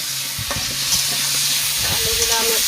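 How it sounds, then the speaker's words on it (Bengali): Potatoes frying in pure mustard oil on a home stove for a chicken and potato curry, a steady close sizzle with stirring scrapes and occasional clinks throughout. "আলুগুলো আমি একটু লাল লাল করে ভেজে নেব"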